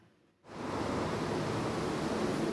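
The 17-metre artificial Porih Revuchyi waterfall in Dnipro bursts into a loud, dense, continuous rush of falling water after a brief quiet moment at the start.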